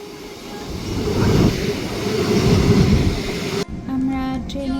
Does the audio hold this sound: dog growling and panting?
no